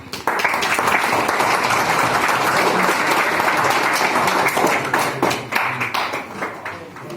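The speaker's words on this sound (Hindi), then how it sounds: "Just clap for your sir." A school audience of students bursts into sustained, dense applause that holds steady and loud before gradually thinning into scattered claps near the end.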